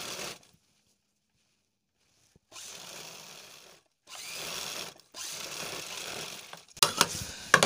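A foot-pressure sewing machine stitches a strap onto a size 36 bra in several steady whirring runs, close and moderately loud, separated by short pauses, with a sharper rattling burst at the end.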